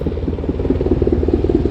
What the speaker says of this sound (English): Let the plane pass.